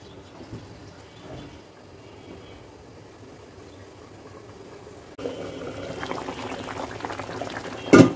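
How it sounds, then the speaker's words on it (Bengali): Chicken simmering in a covered pot gives a soft, low bubbling that grows noticeably louder and busier partway through, ending with a brief clatter. "এখন এটাকে আমরা ঢাকনা দিয়ে জাল করব।"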